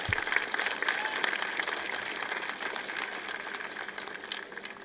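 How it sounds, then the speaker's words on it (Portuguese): An audience at a ceremony honoring Jonas Savimbi, Holden Roberto and Agostinho Neto breaks into sustained applause, a dense patter of many hands clapping that fades slightly toward the end. "Isso merece salva de palmas."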